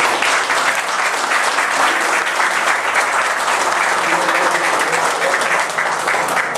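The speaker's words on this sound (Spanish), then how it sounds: "para quien pido un fuerte aplauso." Loud, sustained applause from a conference audience welcoming engineer Rubén Figueroa, a thick steady roar of many hands clapping that holds without letting up.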